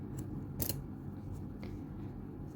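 Scissors give a single quick, faint snip while cutting yarn on a crocheted amigurumi panda, close by in a quiet room.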